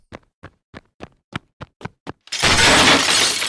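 Glass smashes in one loud, sustained shattering burst after a run of eight sharp, evenly spaced knocks, evoking someone walking through a glass sliding door.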